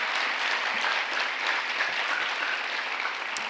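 A symposium audience gives another round of applause, steady dense clapping filling the room throughout, fairly loud and unbroken, with no talk over it.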